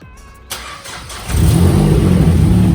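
A 2007 Mazdaspeed 6 engine cranks briefly and catches, then settles into a loud, steady idle that fills the rest of the moment.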